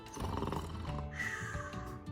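A voice imitates snoring with a drawn-out, rumbling, snorting breath, heard close and alone.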